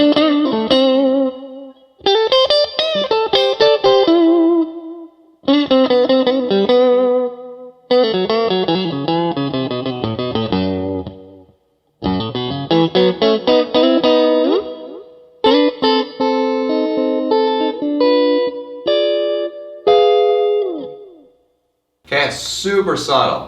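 Electric guitar played through an MXR Carbon Copy analog delay pedal with the mod switch on, low regen and mix: loud sustained chords and melodic phrases in separate bursts, each trailing a subtle warbling echo.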